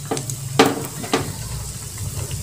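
Potato-based cookie dough sizzling as it fries in hot oil, a steady crackling hiss with a few sharper pops and bubbling bursts, close and moderately loud.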